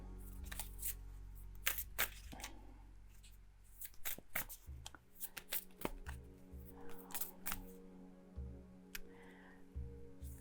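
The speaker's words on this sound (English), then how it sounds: "I might be sitting here shuffling for a bit," Tarot cards being shuffled by hand nearby, quick riffles and soft slides coming in uneven bursts with brief pauses, fairly quiet.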